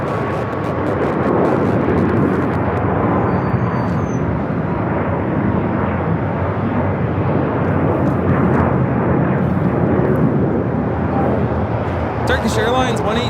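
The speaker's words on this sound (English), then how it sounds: "Turkish Airlines 180 taking off to Istanbul on the A350-900" Turkish Airlines Airbus A350-900 taking off at LAX, bound for Istanbul: a sustained, loud rumbling engine roar that stays constant, with a brief burst of chatter and clicks near the end.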